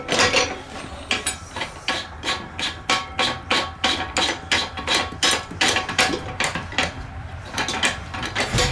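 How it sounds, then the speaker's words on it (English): A ratchet wrench tightens a bolt on a motorcycle mount inside a Ford Transit van, a steady, close run of sharp metallic clicks in an even back-and-forth rhythm, with no talking. "Then you just tighten this thing down and it holds it in place."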